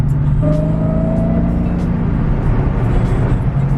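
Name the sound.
Dodge Scat Pack car driving past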